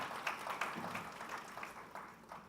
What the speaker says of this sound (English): Can you give a big round of applause for him?